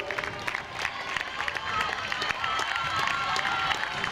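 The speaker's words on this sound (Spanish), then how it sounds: "Un fuerte aplauso para la campeona, para el cuarteto del Playa de Castellón." A crowd claps and cheers for the winning Playa de Castellón team in a women's 4x400m relay at a league athletics meeting. The noise is a continuous, fairly distant wash of applause that swells slightly toward the end.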